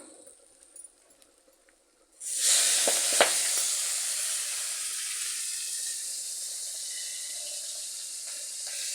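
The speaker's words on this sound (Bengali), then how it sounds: "মাছ ভাজার যে তেল আছে ওই তেলের মধ্যে আমি পেঁয়াজ কুচি দিয়ে দেব" Chopped onion drops into the oil left from frying hilsa fish after a quiet start, setting off a sudden loud hiss. The sizzle stays close and steady, slowly easing over several seconds, with no voices.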